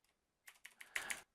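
A computer keyboard is typed on in a brief burst of several quick, soft keystrokes, faint and close, with no voices.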